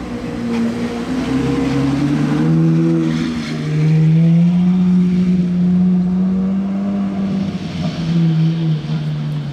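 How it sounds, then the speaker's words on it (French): A Ferrari 812 with a Novitec full exhaust passes with a deep, loud, sustained engine roar that holds steady throughout and swells slightly as it goes by. "C'est très grave une 812 avec l'échappement Novitec quand même."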